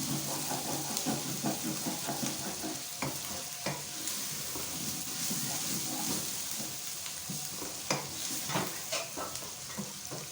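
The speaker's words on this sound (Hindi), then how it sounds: "साथ ही लहसुन और अदरक का पेस्ट डाल दें। इनको भी अच्छी तरह से भूनें" Garlic and ginger paste fries with onions in a pan as the base for a fish curry, giving a steady close sizzle with scattered small crackles and stirring scrapes throughout.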